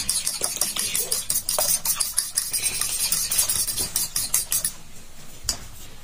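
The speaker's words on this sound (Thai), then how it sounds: "แล้วก็จะตีไข่ค่ะ เอามีดตีไข่" Eggs being beaten with a knife in a bowl for a tofu omelette, giving rapid irregular clinking and tapping strokes at close range, fading out near the end.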